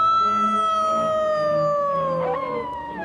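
Wolf howl sound effect on a comedy record: a single long, clear, mournful howl sliding slowly downward in pitch, loud and alone, fading at the end.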